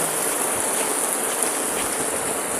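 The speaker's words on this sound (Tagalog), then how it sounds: "Lakas ng ulan." Heavy rain pours steadily near a barangay court on a windy afternoon, a dense, even hiss with no breaks and no voices.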